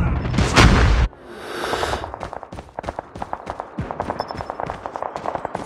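A loud burst from a grenade blast in the mobile shooter Call of Duty Mobile on a Hardpoint match, followed by rapid gunfire crackling and popping in uneven volleys.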